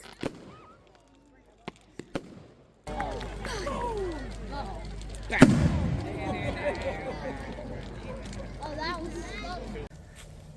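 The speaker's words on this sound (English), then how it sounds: "it was then time to go and watch the fireworks on display" A public fireworks display in Scotland bursts in the night sky, with whistling rockets, sharp cracks and one loud boom, while a crowd murmurs and voices chatter throughout.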